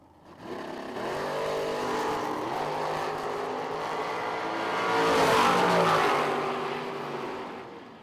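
Drag race launch on a dragstrip, a dragster and a Camaro roaring off the line together, engines rising in pitch through the gears and swelling loud near the end as they pass, steady and close.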